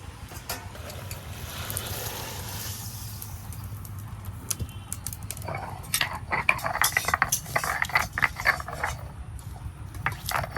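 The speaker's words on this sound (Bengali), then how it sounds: "মাছের ঝোলের জন্য আমি এই যে গোটা লঙ্কা আর আদা আর হলো ওই রসুন এইগুলো আমি বেটে নিচ্ছি" Whole chillies, ginger and garlic ground into paste for a fish curry, with uneven grinding, knocking and scraping that turns busier and more clattery toward the end, over a low hum.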